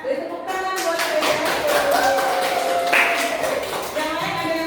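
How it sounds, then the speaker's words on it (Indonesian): Scattered classroom applause from students in a mathematics lesson, a loose patter of claps blending with chatter and a voice talking over it. "Jadi tepuk tangan buat saya"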